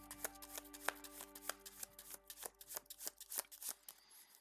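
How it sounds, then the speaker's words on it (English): A deck of game cards, including an encounter deck, is shuffled close up with a rapid series of crisp riffling and slapping bursts that repeat in uneven rhythm for several seconds. "so I think the encounter deck is sufficiently shuffled"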